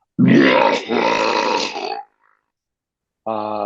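A voice actor imitates a long, rumbling belch using throat-singing technique, a loud, gravelly, sustained burp-like drone broken by a brief pause, then a short harmonic vocal tone starts after a gap of silence.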